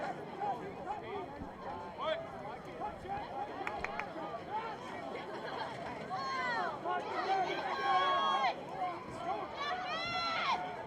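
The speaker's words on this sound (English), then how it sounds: "Here's some different voices through the crowd mics, hoping for one of their young men to maybe score a goal" Spectators at a high school lacrosse game between Columbine and Chatfield call out and cheer from the stands, a steady babble of overlapping voices with louder individual shouts rising toward the end.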